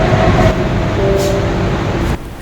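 Inside a moving metro train in India, a loud constant rumble and roar fills the carriage with a faint tonal whine, then the noise drops abruptly near the end.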